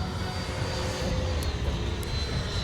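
A steady, close roar of a small jet engine on a Freewing MiG-29 Fulcrum model jet with thrust increased. It holds a constant loud whine with little change in level.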